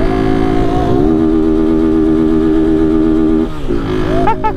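A motorcycle engine runs loud and close with a rough, rattling exhaust, holding a steady drone with a small rev change near the start and a dip and rise near the end.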